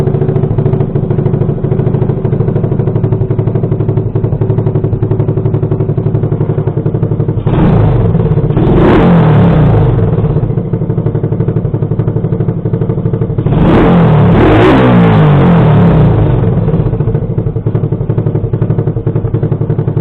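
A cheap Chinese 110cc quad bike engine idles steadily with a constant buzzing drone, close and loud, broken twice by bursts of clattering and knocking noise.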